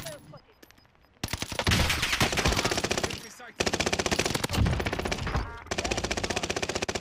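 Rapid bursts of automatic gunfire from a gun in Warzone, loud and close, in long sustained volleys after a quieter opening, with brief gaps between strings of shots.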